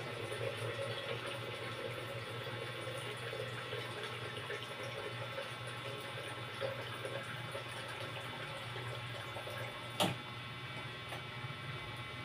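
Water runs steadily in a home kitchen while it is readied for later use, a constant moderate rushing with one brief clank partway through and no talking.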